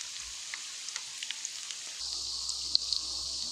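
Oat gorditas cook quietly on one side in a pan, giving a faint, steady sizzle with scattered soft pops and a slightly louder crackle toward the end.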